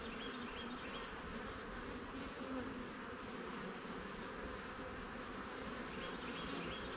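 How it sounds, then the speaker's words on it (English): Honeybees on a hive frame during an inspection, a dense, continuous buzzing swarm that is close, even and fairly faint, with no voices. "this one's got a bunch of bees on it"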